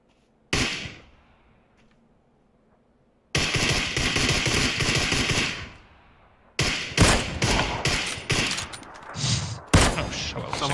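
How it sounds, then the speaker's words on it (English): Bursts of rapid gunfire in the PUBG battle royale game, a single loud shot followed after a pause by sustained volleys and further close, heavy shots in quick succession. "Maybe fire some shots into the head, make him peek at us."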